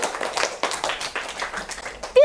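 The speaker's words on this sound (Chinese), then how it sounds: "大家给他掌声鼓励一下" Elementary school students in a classroom give a short round of applause for a classmate: light, fairly quick clapping that mixes with voices and ends with a brief squeaky tone.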